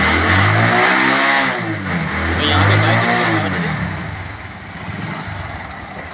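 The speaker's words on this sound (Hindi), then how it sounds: "जैसे ही मैं इसका थोड़ा बहुत थ्रोटल लेता हूँ" A motorcycle engine with exhaust smoke trouble revs up under the throttle in two swelling pulls, then settles back toward a rough idle, loud and close. Someone speaks briefly over it.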